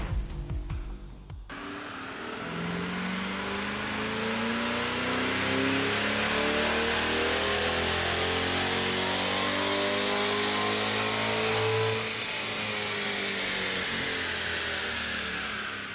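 A C8 Corvette on a chassis dyno during a stock baseline pull, the V8 climbing steadily from a low rumble to a loud high-rpm howl over many seconds before easing off, close and continuous with no talking.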